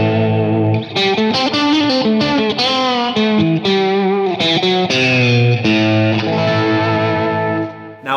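Overdriven electric guitar running through a Source Audio Nemesis delay and Ventris reverb together, ringing chords and melodic runs with washy repeats and ambient tails, loud and steady with no talking.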